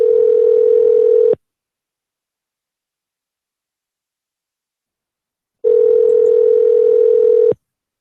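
Two loud, steady single-pitch tones from a Skype call, each lasting over a second, separated by about four seconds of silence, with no voices.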